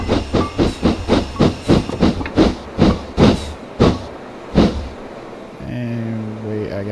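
A steam locomotive in Train Simulator 2016 puffs in a run of sharp, rhythmic chuffs that gradually space out as the regulator opens, then gives way to a steady hiss with a low tonal drone.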